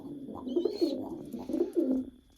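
Pigeons, including a smoky-coloured bird, coo in low, throaty rolling phrases, close and fairly soft, repeating several times over faint background noise with no talking.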